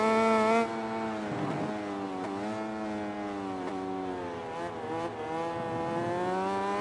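In the MotoGP 20 racing video game, a motorcycle engine howls at high revs, dipping and climbing again through repeated gear shifts and corners, loud and continuous without speech.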